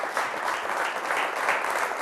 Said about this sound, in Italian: facciamo un applauso a Ciro Baldissera